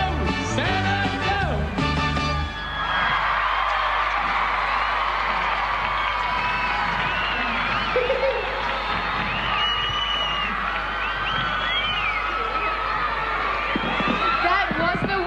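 Large outdoor crowd at Carols in the Domain cheering and applauding after a performance, a steady wash of claps and excited children's shouts. Music fades out at the start and voices carry over the noise.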